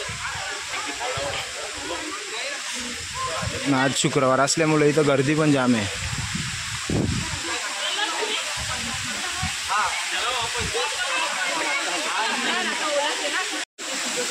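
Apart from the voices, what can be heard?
waterfalls flowing near Ekvira temple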